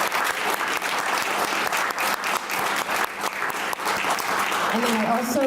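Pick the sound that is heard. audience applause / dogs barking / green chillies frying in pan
audience applause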